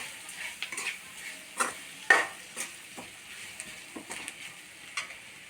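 Boiled, salted potatoes for a Kerala potato curry stirred in a frying pan, the spoon clinking and scraping against the metal in irregular close strokes over a soft sizzle.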